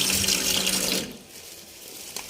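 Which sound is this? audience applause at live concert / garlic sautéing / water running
water running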